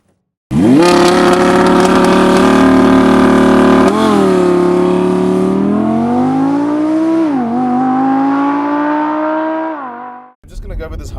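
A 2017 Audi R8 V10 Spyder supercar accelerating hard on a South African road, its loud engine rising steadily through the gears with brief dips at each shift, then easing off near the end.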